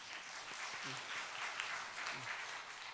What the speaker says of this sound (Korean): 우리 박수로 안녕하겠습니다